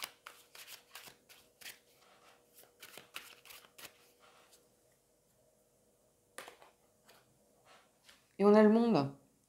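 Tarot cards are shuffled in quick crisp riffles and flicks, then a card is drawn with a soft slide, before a voice briefly speaks at the end.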